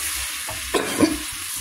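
Food fries and sizzles in a hot pan as it browns, a steady close hiss with a couple of brief stirring scrapes partway through.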